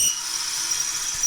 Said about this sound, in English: bring our tailstock in a bit further so we can drill right the way through this project